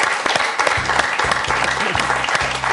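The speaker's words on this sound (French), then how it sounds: "Et ça s'applaudit très fort." A TV quiz-show studio audience applauds loudly for a winning contestant, with brisk, dense clapping throughout and a low rhythmic musical pulse beating underneath.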